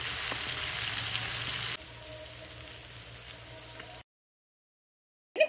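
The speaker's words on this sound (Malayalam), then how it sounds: "ഇനി ഒരു പാനിൽ കുറച്ച് നല്ലെണ്ണ ഒഴിച്ച് ഈ മീനിട്ടൊന്ന് ഫ്രൈ ചെയ്ത് മാറ്റണം." Marinated sardines sizzle steadily in sesame oil in a pan, a loud even frying hiss that softens partway through and then cuts to silence before a short burst at the end.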